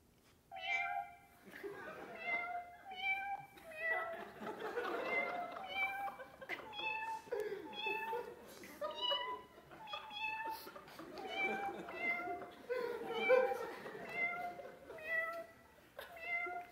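A cat piano app on an iPhone plays a melody made of meow samples, a rapid string of pitched cat meows in tune, with laughter and murmuring from an audience underneath.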